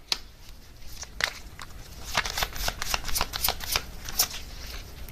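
Tarot cards are shuffled and drawn by hand, a close run of crisp riffling snaps and papery slaps that grows busier and denser, with no voice.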